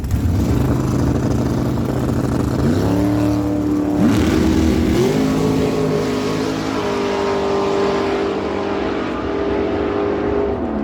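A 1980 Datsun 280ZX makes an eighth-mile drag strip run, its engine loud and close, revving hard through a series of rising pitch sweeps with distinct gear changes before holding a high, sustained howl.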